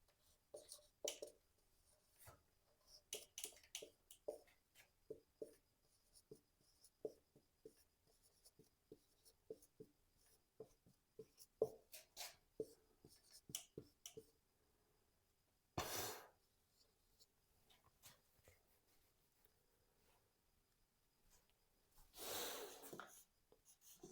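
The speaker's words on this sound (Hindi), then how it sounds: "इसको मैं मिटा करके फिर से लिख दे रहा हूँ और बड़ा" Chalk or marker writing on a board during a maths lecture, a steady run of short scratchy strokes with brief pauses, plus two louder rubbing bursts like erasing, with no talking.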